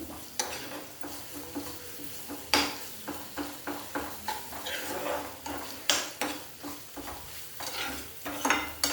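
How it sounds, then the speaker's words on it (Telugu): Ginger garlic paste frying with softened onions in a pan for an amaranth stem and chana dal masala curry, a constant close sizzle punctuated by regular sharp clinks and scrapes of a spoon stirring against the metal. "ఇప్పుడు అల్లం వెల్లుల్లి పేస్ట్ వేసేస్తున్నాను. ఇది కూడా పచ్చివాసన పోయే వరకు వేగించుకుందాం."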